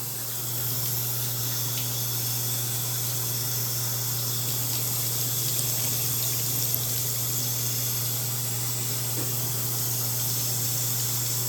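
Steady running tap water rinsing permed hair at home with rollers still in, a continuous loud hiss and splash that holds evenly from start to finish with no talking.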